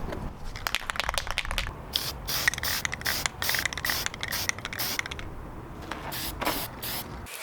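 Rust-Oleum High Heat Ultra spray paint hisses onto the bare steel floor of a welded steel tube gasifier stove in short, repeated bursts, close and loud, with faint can rattles between passes.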